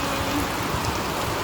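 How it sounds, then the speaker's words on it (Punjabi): Heavy rain pours down in a dense, steady roar, close and loud throughout with no voices. "ਤੁੰਦ ਪੈ ਰਿਹਾ ਮੀਂਹ"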